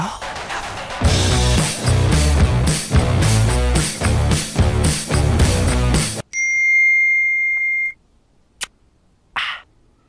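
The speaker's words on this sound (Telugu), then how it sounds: "మెసేజ్ వచ్చినట్టుంది చూసొస్తాను" A phone message notification sounds as a short electronic tone right after loud music cuts off, followed by a couple of brief clicks in near silence.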